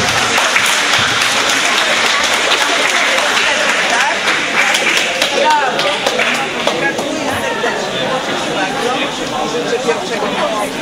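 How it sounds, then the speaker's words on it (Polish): Warm applause for medalists at a Special Olympics regional swimming meet, sustained loud clapping from a crowd in an indoor pool hall, steady throughout with chatter mixed in. "Ale naprawdę gorące brawa"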